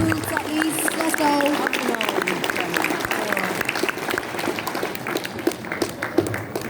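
An audience at a stage event at the Insomnia Dublin 2019 gaming festival claps in a busy, scattered patter that fades toward the end, with people talking over it.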